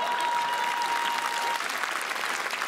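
A comedy club audience at a TV channel's anniversary special claps in a full, continuous burst, with a faint steady tone in the first half and no talking over the clapping.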